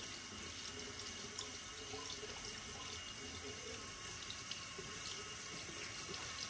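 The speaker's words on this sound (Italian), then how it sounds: "voglio partire con un po' d'acqua sul pennello, quindi acqua calda" Hot tap water runs steadily from a faucet onto a shaving brush at an Italian barber's straight-razor shave, a constant soft splashing rush heard alone at low level.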